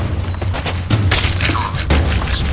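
Deep cannon booms from a ship battle in the pirate video game Sea of Thieves, with two or three heavy thuds over a rumbling backdrop, loud and close.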